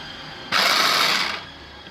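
A repaired Turkish kebbeh machine motor starts up for about a second, a loud, high, buzzing whir that cuts in abruptly and then fades back to a faint background hum.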